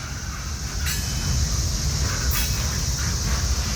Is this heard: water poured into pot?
no